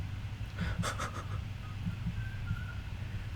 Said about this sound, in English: Someone's whistling outside.